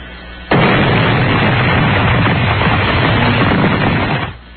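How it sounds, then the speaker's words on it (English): A cartoon explosion sound effect bursts in loud and abrupt, holding a dense, crackling roar for about four seconds before cutting off. "That's a good explosion."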